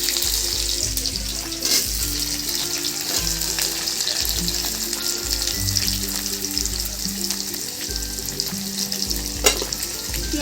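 Onion frying in a pan with cumin seeds while an egg curry is being made, giving a loud, continuous sizzle with occasional stirring scrapes and some background music.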